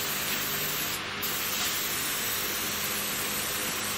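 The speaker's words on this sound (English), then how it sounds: "start in the middle of the panel and nice even strokes. Not too much paint all at once." An aerosol spray paint can sprays a car panel, giving a steady, close hiss that runs without a break and with no talking.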